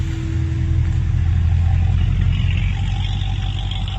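A Corvette engine rumbles steadily nearby at a car meet, a deep low idle with a slight rise in revs, continuous throughout with no talking.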